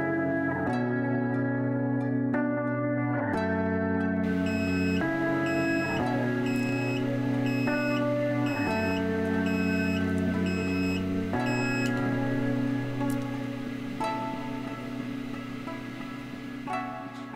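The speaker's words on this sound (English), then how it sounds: "And we just need to raise it to 32 and the alarm should sound." A soldering station's temperature alarm goes off, a steady electronic tone that shifts pitch in repeated stepped pulses with rapid high beeps layered over it for about seventeen seconds.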